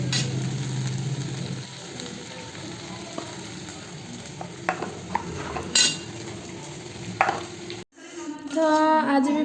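Potatoes fry in a pan with a constant hiss and sizzle, with scattered clicks and clinks of a utensil against the pan, followed near the end by a brief pause and a louder, different cooking sound.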